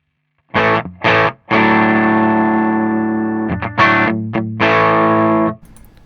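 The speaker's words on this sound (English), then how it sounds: "So there is some overdrive, just a little bit." An electric guitar runs through an overdrive pedal into a reverb: a few short, gritty, distorted chord stabs, then long sustained chords ringing out loud, ending in a soft reverb tail.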